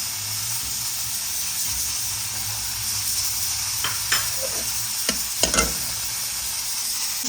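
Ghee sizzling with onions in a cooking pan while a goat trotters (paya) dish is prepared, a steady frying hiss throughout with a few sharp crackles and pops near the end.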